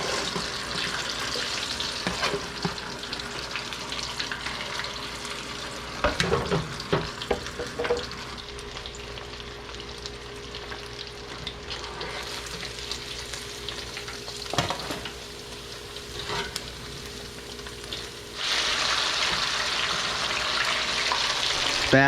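Chicken pieces fry in hot oil in batches for Kentucky and Chongqing style dry fried chicken, a continuous dense sizzle with occasional clatters and stirring knocks, rising louder near the end as a fresh batch goes in; no talk.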